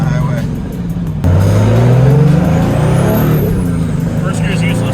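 A turbo diesel-swapped Datsun 240Z accelerates up a highway on-ramp in evening traffic, its engine rising steadily and loudly in pitch through the gears with a faint high turbo whistle above, heard from inside the car.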